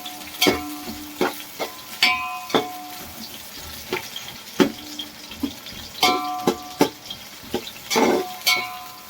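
A mixture for chicken biryani is stirred and fried until golden, with a steady sizzle broken by repeated scraping knocks of a spoon against the pan, close and irregular, with no voices.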